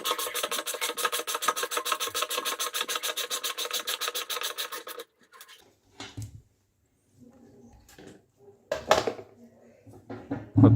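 A ratcheting wrench unscrewing the 10 mm pulley bolt on a Zanussi top-load washing machine, a rapid, even clicking rasp for about five seconds, then scattered clanks and scraping of metal parts, with brief speech.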